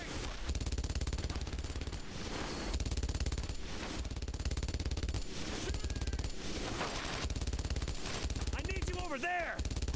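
Sustained machine gun fire in the World War II game Brothers in Arms: Road to Hill 30, dense rattling bursts running almost nonstop, with shouting voices and a brief whistling sound near the end.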